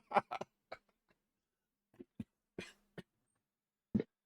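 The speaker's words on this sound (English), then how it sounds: "I'm going to cough down the microphone a whole lot." Someone with a cold coughs close into a microphone, several short dry coughs and throat-clearing bursts scattered across quiet gaps.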